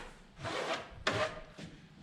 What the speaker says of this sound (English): Scrape all that off.